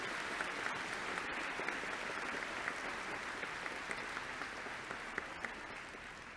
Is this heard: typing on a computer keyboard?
no